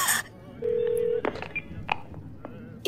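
An emergency number is dialed on a telephone: a single clear keypad tone rings out, then come short clicks and faint scattered sounds.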